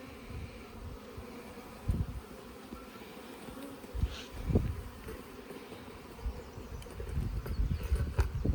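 Honey bees buzz as they are shaken and puffed with smoke into a Langstroth hive during a move from a top bar hive, a steady low drone with bumps and rustles from handling, swelling louder toward the end.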